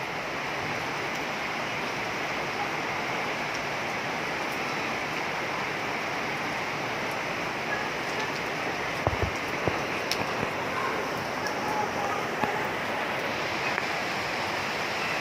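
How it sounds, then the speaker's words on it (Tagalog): Heavy rain mixed with hail pours down in a dense, constant roar, with a few sharper taps of hailstones striking near the end and no voices. "Grabing ulan."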